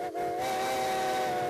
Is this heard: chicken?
no